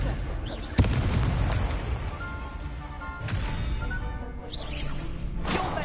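Confringo fire-blast spell explosion in Hogwarts Legacy, heard as a sharp boom followed by a second burst a few seconds later, loud within busy game sound, with a voice speaking briefly.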